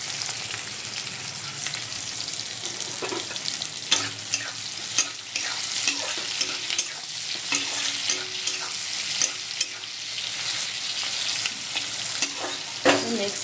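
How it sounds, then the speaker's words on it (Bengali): Onions fry with a pinch of salt in a pan, giving a steady hiss broken by regular scraping knocks as a spoon stirs them, close and unaccompanied by talk. "পেঁয়াজটা লাল লাল করে ভাজা হয়ে গেছে"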